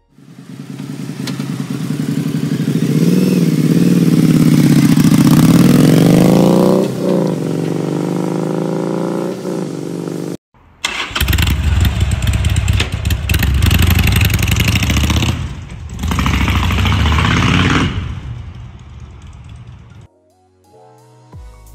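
A Harley-Davidson V-Rod's Porsche-developed 60-degree V-twin runs loud and close: a steady throaty idle that swells with revs, then a harsher full roar after a brief cut, before dropping off near the end.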